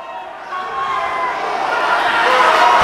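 Crowd at a live fight event roars and cheers loudly, the noise swelling steadily and growing more intense toward the end.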